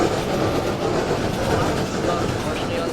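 A train in the video game GV rumbles along the tracks as a steady, loud wash of rolling noise, with a player talking over it.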